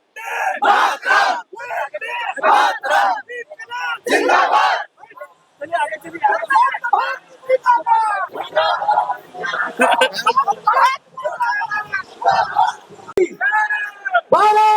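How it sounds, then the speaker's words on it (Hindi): Protest crowd chanting 'Bharat Mata ki Jai' slogans at a CJP demonstration against the NEET paper leak, loud rhythmic shouted bursts of many voices rising and falling throughout. "प्रोटेस्ट के दौरान कुछ लोगों ने यहाँ पे भारत माता के जय के नारे लग रहे हैं"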